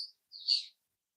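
Small birds give two high, thin chirps, one brief and one slightly longer, clear and isolated against silence.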